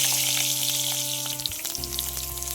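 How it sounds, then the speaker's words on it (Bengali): Potatoes fry in oil in a pan for a cauliflower katla fish curry, a close, continuous sizzle with crackles over a steady low hum and no voices. "এতেই আবার আলুটা ভাজা করে নেব"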